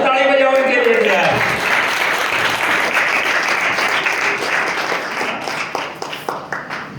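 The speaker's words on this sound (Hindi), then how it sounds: "तो ताली बजाओ इनके लिए यार" A hall of students at a school farewell ceremony breaks into loud, sustained applause right after a voice speaks. The clapping thins toward the end into scattered individual claps.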